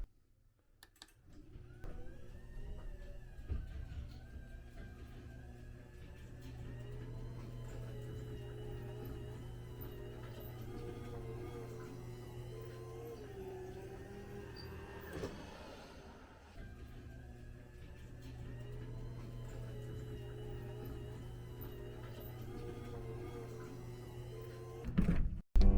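A 3/4 horsepower belt-drive garage door opener running as the door opens, a steady low motor hum with a mechanical rattle and whir lasting about twenty-five seconds, moderately close and without speech.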